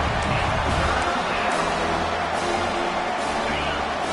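A stadium crowd roars steadily in a college football video game, a dense, continuous wash of cheering and noise, loud and unbroken, with commentary voices blended in.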